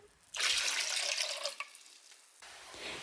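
Liquid pours steadily for a few seconds as a cup of water and a cup of vinegar go into a container for homemade glass cleaner, close and continuous with a brief pause near the end.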